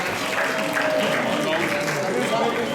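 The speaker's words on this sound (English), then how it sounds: "give him a round of applause, please" Audience at a Year 11 leavers assembly at Lyndon School claps steadily, a dense, even patter of many hands that fills the room at moderate level, with faint voices beneath.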